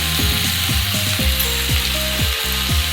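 Drumstick leaves with a pinch of sugar fry in a pan, giving a steady hiss with a regular rhythm of scraping stirring strokes throughout. The sound is close and continuous, with no voices.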